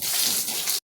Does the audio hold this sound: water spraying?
yes